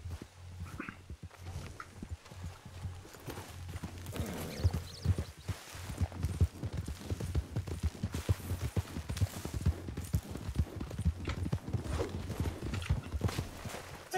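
Horse hooves in the game RedM, a steady run of close, crisp clip-clops that starts sparse and picks up into a brisk, regular gait lasting throughout, with occasional creaks and faint background noise.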